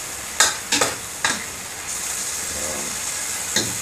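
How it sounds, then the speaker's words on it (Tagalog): A utensil stirs pepper and seasoning through a cooking pot of sinigang, a few sharp scraping strokes close by over a soft steady sizzle, no voices. "At kunting halo para ma-mix natin yung ating Ajinomoto para paminta"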